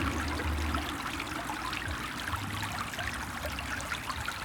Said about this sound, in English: this bridge here goes over the river Clatter